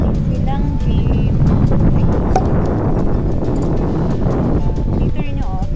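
Strong wind buffets the microphone outdoors near a playground, a steady loud roar covering the whole stretch, with faint voices and distant sounds barely audible underneath.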